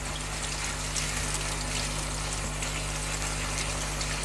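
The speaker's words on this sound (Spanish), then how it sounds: "aquí lo limpiamos en agua fría" Cold water runs steadily over buckwheat grains being rinsed, a constant loud close rush with an underlying hum.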